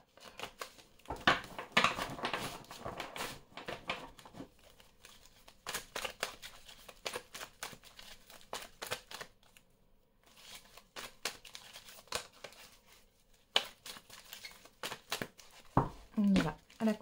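A tarot deck shuffled and cut by hand, with close riffling and sliding card sounds in bursts separated by short pauses, then a few sharper snaps near the end, and quiet talk in places.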